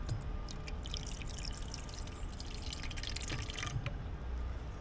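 Water pours and trickles into a bowl of eggs for takoyaki batter in an outdoor kitchen setting, a soft continuous splashing and dripping over a steady background hiss, with no talk.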